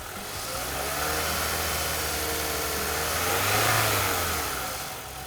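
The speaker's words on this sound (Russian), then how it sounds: "как работает двигатель Camry" A Toyota Camry engine runs and revs up, its rumble swelling to a peak and easing back down, steady and close with no voices.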